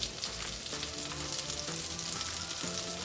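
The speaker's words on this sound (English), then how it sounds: "Let the butter melt." A tablespoon of butter melting in a hot pan, giving a steady close sizzle and crackle throughout with faint background tones and no talking.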